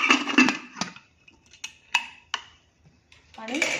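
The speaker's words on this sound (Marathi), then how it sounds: "आता मी झाकण लावून घेते कुकरला" A pressure cooker holding dal is closed with its lid, giving a few sharp metallic clinks and scrapes. A voice is heard at the start and end.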